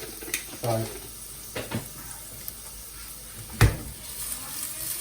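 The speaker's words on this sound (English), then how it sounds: "I'm actually going to put some curry leaves in here" Curry leaves hit a hot pan of onions, garlic and ginger for a cauliflower curry, giving a soft, steady sizzle with a few sharp clattering knocks close by.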